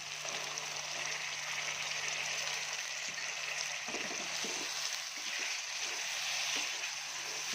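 Chopped cauliflower stems fry in a pan as part of an aloo gobi, giving a soft, even sizzle that holds low and steady throughout, with a few faint scraping clicks midway.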